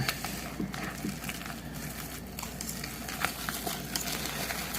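Butter and milk being whisked into mashed potatoes in a pan for shepherd's pie: soft, steady scraping and wet stirring with faint patter, close and quiet, no talk.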